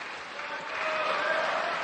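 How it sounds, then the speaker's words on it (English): Crowd cheering and applauding for Marcos Freitas at a table tennis match against Ma Long at the 2015 World Tour Grand Finals, a steady broadband wash of clapping that swells slightly and holds through the moment. "Crowd still cheering for Marcos Freitas"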